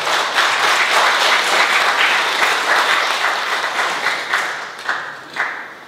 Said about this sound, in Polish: Ogromne brawo.